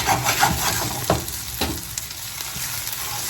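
Flour being stirred into onions frying in oil in a pan, a steady close sizzle with soft scraping strokes of the spoon running under it throughout.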